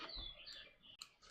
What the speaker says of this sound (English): wow, those birds are really loud.